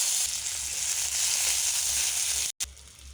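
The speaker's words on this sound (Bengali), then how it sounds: "তেলটা গরম হয়ে গেছে এতে পাঁচ ফোড়ন তেজপাতা পেঁয়াজ কুচি" Panch phoron, bay leaf and chopped onion sizzling in hot oil in a pan, a loud, dense, continuous hiss that stops for a brief moment near the end and then comes back.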